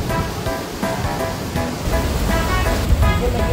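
Strong wind roars over the open Radhanagari dam amid heavy rain, a loud steady rushing blast buffeting close by with no voices.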